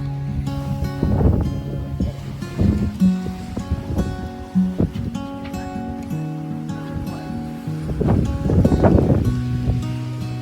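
Waves splash and wind gusts around a sailboat under sail on the sea near St. Nicholas Island with its engines off, the surges of water rising and falling close by, with rustling and creaking in between.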